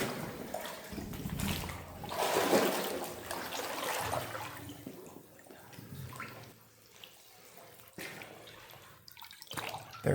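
Deep water sloshing and swirling around legs while wading through a flooded underground dungeon, a continuous churning splash that swells and fades, close up, with drips and the echo of an enclosed stone space.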